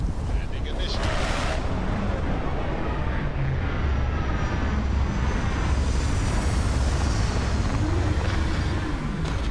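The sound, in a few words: spaceship landing in video game Starfield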